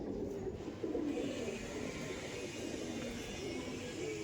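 Doyaj line pigeon cooing softly nearby, a low rolling coo over a constant hiss of background noise.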